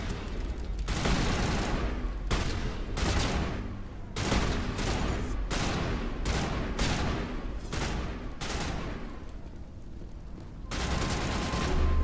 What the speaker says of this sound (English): Put on the sniper, come on.